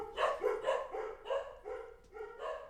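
Dogs barking in a home studio, a run of about six close, fairly loud barks in a steady rhythm, with no talking.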